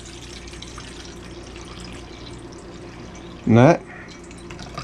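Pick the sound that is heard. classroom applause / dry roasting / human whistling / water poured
water poured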